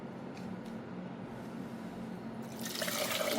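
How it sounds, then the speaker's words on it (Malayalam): A quiet background hum gives way to a sudden rush of water pouring into a cooking pot near the end, growing louder. "വെള്ളം ഒഴിച്ചു."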